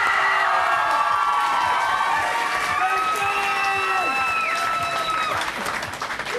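A studio audience applauds and cheers for a band on a 1998 television show, a steady roar of clapping with whoops and shouts, easing off near the end.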